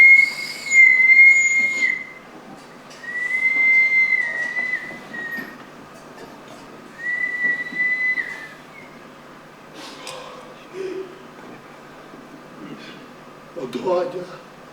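Train whistle at a station as a train arrives, several long steady whistle blasts repeating at intervals, clear and fairly close, with rail clatter and squeals between them and voices in the background.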